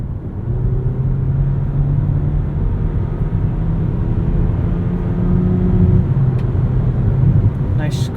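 Cabin drone of a 2018 Hyundai Ioniq plug-in hybrid prototype in sport mode, a steady, close low engine rumble that holds fairly even throughout with no distinct shift points standing out.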